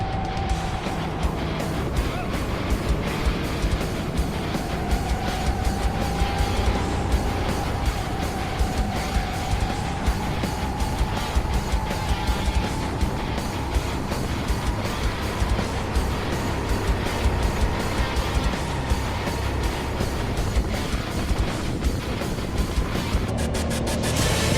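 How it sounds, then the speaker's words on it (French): Go-kart engines race at full throttle on the Fréjus track during a Gam'IT Racing Cup event. The loud, steady drone carries a slowly rising pitch and continuous broadband roar for the whole stretch, with no talking. "c'est maintenant Laurent A sur le karting 48 qui me dépasse alors que j'ai tout mon poids sur la pédale d'accélérateur"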